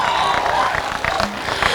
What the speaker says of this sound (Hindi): जोरदार तालियों के साथ उनका स्वागत करिए